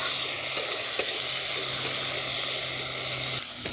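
Potatoes stirred with salt and turmeric in a hot pan sizzle loudly and steadily, with a few scraping knocks of the spoon, close up and without talk.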